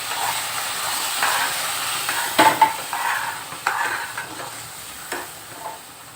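Hot milk poured little by little into semolina roasting in a pan for shira over a low flame, producing hissing, steaming bursts and spattering bubbles under a steady background sizzle.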